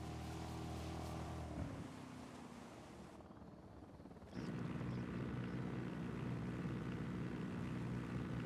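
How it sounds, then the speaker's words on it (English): Unidad military helicopter in the tactical shooter Ghost Recon Wildlands, a steady rotor and engine drone with a low hum, briefly dropping away before returning loud and constant; no talk. "It might be worth taking advantage of the Unidad helicopter."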